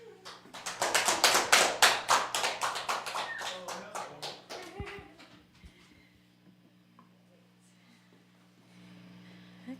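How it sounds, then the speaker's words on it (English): Audience at a live music show on the Jukebox applauds as the act is introduced, a brief burst of clapping from a modest crowd that peaks early, then fades into quiet room hum with a few stray sounds. "please give your hearty round of applause to"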